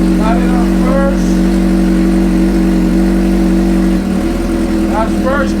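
A Suzuki GSX-R 600 motorcycle with a Heal Tech quick shifter runs in first gear, its engine holding a loud steady drone that drops in pitch near the end, while someone talks over it.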